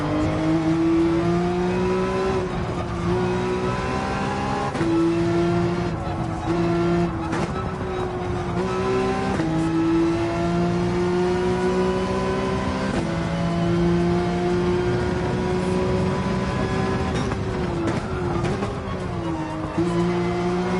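A race car engine in Gran Turismo 7 during an online daily race drones loudly and steadily throughout, its pitch rising and dropping sharply at gear changes and braking points, with no voices.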